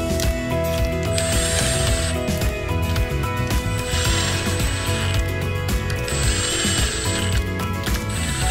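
A ratchet clicks rapidly while tightening bolts on a P40 SoftWash pump plate assembly, bursts of dense metallic ticking repeated in several close, loud runs over a mechanical hum.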